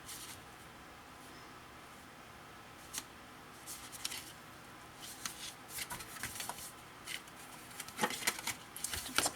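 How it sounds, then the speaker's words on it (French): Paper is folded and glued by hand for a three-tier scrapbooking explosion box, making soft, faint rustles, creases and small taps that grow busier and closer toward the end, in an otherwise quiet room without speech. "là je vais les tout simplement plier et coller"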